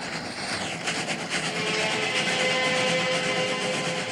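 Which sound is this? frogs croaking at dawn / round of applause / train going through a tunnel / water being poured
train going through a tunnel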